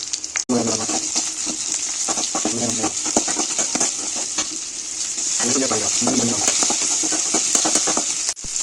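Onions frying in oil in a pan for South Indian pepper chicken fry, a steady bright sizzle throughout with occasional stirring and utensil clinks, while a voice talks over much of it.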